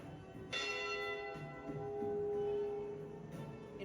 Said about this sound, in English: the bell rang for each of the 29 crew members who lost their lives in this tragic event